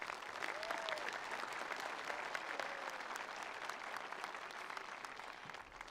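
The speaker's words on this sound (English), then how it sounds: "let's give another round of applause for them" An audience at a high school commencement claps steadily in sustained applause that fills the hall, with a dense even texture throughout and a few faint voices mixed in.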